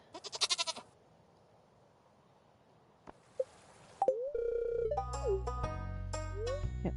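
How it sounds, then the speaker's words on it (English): Goats in Stardew Valley let out a short burst of quavering bleats at the start. Quiet follows, then a couple of clicks and bright chiming game music with menu tones. "Alright, we got goats."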